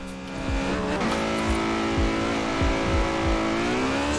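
A fast car racing in Forza Horizon 4, its engine droning loud and steady with repeated rising revs and gear changes, plus occasional tire noise, with no talking.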